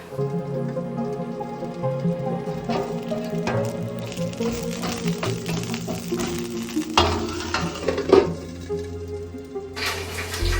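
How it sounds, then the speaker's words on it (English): Cauliflower goes into a pan of slow-cooked carrots and onions and sizzles steadily, with scraping and stirring clatter on top and a few sharper knocks, all close and unbroken. "I'm going to add my cauliflower into the pan."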